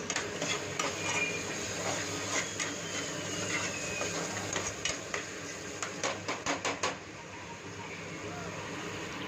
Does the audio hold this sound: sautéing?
yes